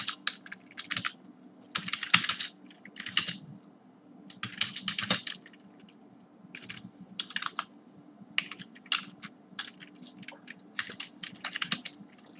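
Rapid keyboard typing in uneven bursts of clicks with short pauses, close and fairly quiet, no voices.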